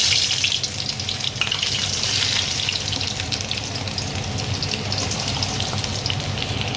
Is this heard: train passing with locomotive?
no